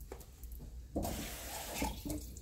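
Kitchen tap water gushes into a pan or sink for a moment while a chicken dish is being prepared, a close, loud, steady splashing rush that starts abruptly and then ebbs.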